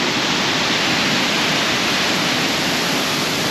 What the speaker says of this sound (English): That's pretty high up the top of the waterfall.